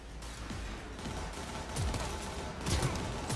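Gunfire in the video game Cyberpunk 2077, several quick shots and bursts over a continuous noisy background, fairly faint, with no talk over them.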